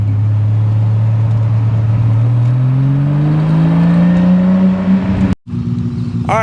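A 1000-horsepower third-generation Toyota Supra drives hard, its loud engine rising steadily in pitch under acceleration for several seconds, then cutting off abruptly before a brief lower-toned resumption.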